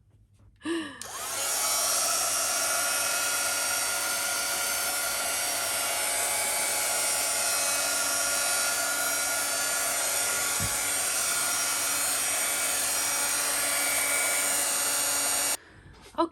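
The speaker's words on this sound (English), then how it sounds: "Let me grab my dryer." A crafting heat dryer blows in one continuous loud whir for about fifteen seconds, starting abruptly after a brief click and cutting off near the end, used on a raised stencil paste journal cover.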